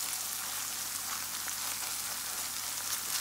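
Tomato paste sizzles in a hot pan for stewed salted fish with okra, a steady, soft, hissing crackle with no pauses and no voices.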